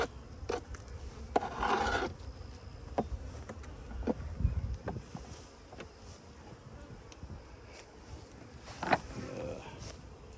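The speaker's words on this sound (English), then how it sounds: "there's so many bees underneath it every time I pick it up" Honey bees buzzing around a hive at a cow-pasture apiary during box changes, a faint droning hum under scraping and handling clatter, with occasional louder bursts of activity.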